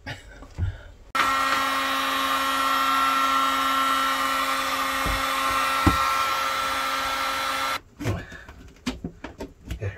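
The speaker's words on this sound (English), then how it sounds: "I'm gonna heat it up with a heat gun" A heat gun blowing hot air aboard a boat, a steady loud whirring rush that switches on abruptly, holds for several seconds with a few knocks underneath, then cuts off.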